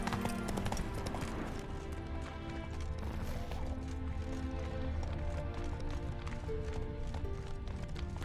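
Hooves of a galloping horse in The Witcher 3 drum in a fast, steady rhythm over game music, close and continuous, with occasional clattering hits mixed in.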